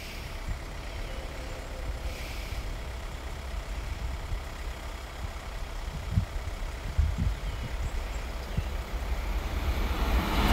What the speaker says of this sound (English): here's the Leeds train